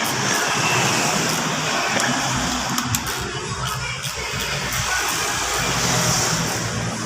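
A powerful BMW engine roars steadily and loudly throughout, a broad continuous rumble with a slight whine and no talking over it.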